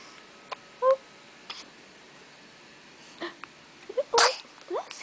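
A small child gives a quick sneeze, sharp and close, amid quiet room sounds and a few soft squeaks and breaths.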